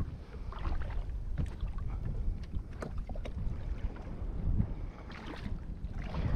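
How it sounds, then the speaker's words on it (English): An old outboard boat motor churns through shallow tidal mud in North Carolina, a continuous rough low drone with wind buffeting the microphone and no voices. "Old motor just a skipping across in the mud."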